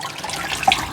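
Liquid starch drips from soaked quilting fabric into a basin, a soft steady trickle with a couple of brighter drops, close and fairly quiet.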